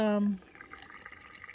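Water poured into a wicking tub planter during garden maintenance, a soft trickling and dripping heard up close after a brief tonal sound at the start.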